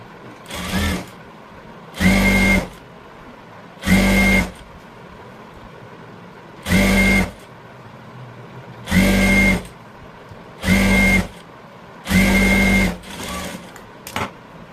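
A sewing machine stitches a folded half-inch hem on a blouse lining in about eight short whirring bursts, each lasting under a second, separated by brief silent pauses, close and steady with no voices.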